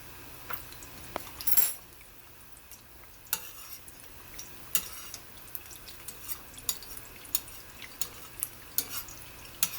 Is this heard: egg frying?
yes